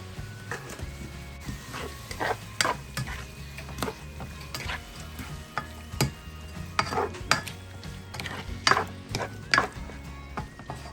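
Squash and string beans are stirred in a frying pan with a spatula, irregular scraping and clattering strokes over a soft, steady sizzle.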